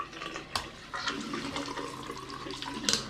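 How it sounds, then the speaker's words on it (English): Water trickles out of a darkroom processing chamber through a hose narrowed by a clamp, a steady low-flow wash with a few sharper splashes and knocks, close by and alone. "You just want to let a little bit of water out."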